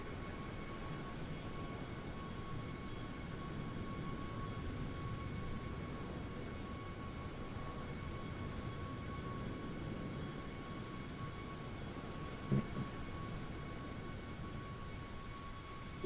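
An iFly 737 MAX8 jet takes off in a flight simulator, its engines giving a steady, dense roar that holds level throughout with no talk, apart from a single brief knock near the end.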